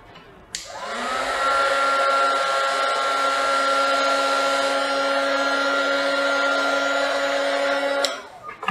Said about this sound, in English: So I have my heat gun here.